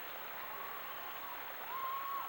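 Crowd in an arena at the 1993 World Gymnastics Championships apparatus final applauds, a steady wash of clapping that swells toward the end.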